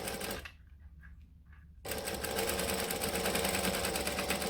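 A sewing machine back-stitches a bag seam: a short burst of stitching, a near-silent pause, then a steady, continuous close-up run of rapid needle strokes.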